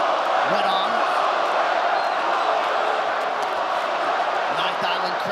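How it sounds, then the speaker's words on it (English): A Ninth Island crowd at a Max Holloway fight cheers steadily, forming a dense, sustained roar, while a commentator talks over it. "Ninth Island crowd getting behind Holloway early"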